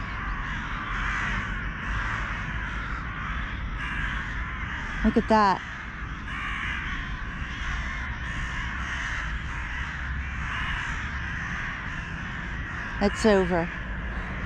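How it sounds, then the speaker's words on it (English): Crows caw in harsh bursts during a squabble within a flock, two clusters of loud calls standing out over steady outdoor background noise, with a person talking in between. "Fight. Crow fight. It's a crow fight."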